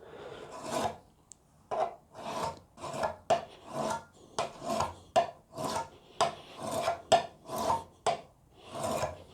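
Card scraper edge burnished to raise a burr, steel tool rubbed along steel at a shallow angle of about five degrees: a close, steady series of about a dozen rasping strokes in an even rhythm, with no talk.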